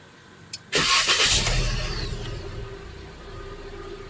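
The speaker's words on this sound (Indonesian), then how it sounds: "Sebelum nak gerak tu, kita kena start engine dulu." A Proton Saga VVT car engine cranks and catches with a loud burst after a brief click, then settles into a steady idle that slowly fades in level.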